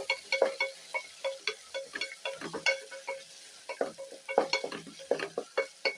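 Roughly chopped tomatoes go into a pan for a Kumbakonam-style kadappa, giving a close, repeated scraping and clattering pattern of stirring over a soft sizzle, with no voices.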